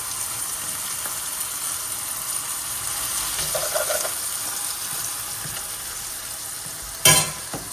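Vegetables for a meat-roll sauce sautéing in a frying pan, with a tablespoon of tomato paste being added, give a steady, close sizzle throughout, with light stirring scrapes midway and a brief louder burst near the end.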